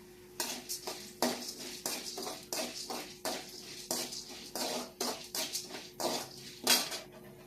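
Urad dal roasting in a pan while it is stirred, a series of about a dozen sharp scraping and rattling strokes against the metal, close and fairly quiet, with no talk.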